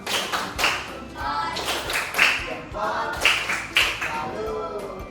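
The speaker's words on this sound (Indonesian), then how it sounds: "Kita ulangi sekali lagi, tepuk salut." Rhythmic primary school class clapping, repeated sets of sharp claps in a steady pattern, with voices murmuring between the bursts.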